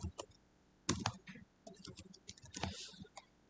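Quick runs of small plastic key presses on a TI graphing calculator keypad, close and crisp, coming in uneven bursts with short pauses between them.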